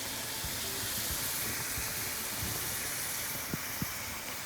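Sweet pumpkin puffs (gharge) fry in hot oil with a steady, even sizzling hiss and two small sharp pops near the end.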